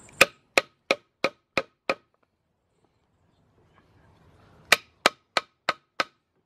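A Cold Steel Counter Point 2 knife is batoned into wood in two runs of six sharp, evenly spaced knocks separated by a quiet pause. The knocks are close and crisp, with no talking.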